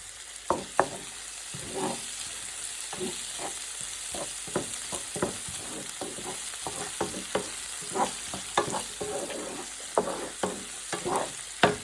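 Red chilli fries in hot oil, a constant sizzle broken by repeated close scraping knocks as a wooden spoon stirs the pan, with no talking.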